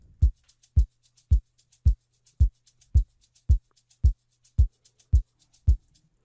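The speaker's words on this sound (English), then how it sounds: "what we have here basically is a shaker loop that sounds like this," An Amapiano beat programmed in FL Studio, with a kick drum added to a shaker loop: deep, evenly spaced kick thumps about twice a second, with light, faint shaker ticks between them and no voice.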